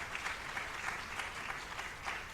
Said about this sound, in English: They need a special applause.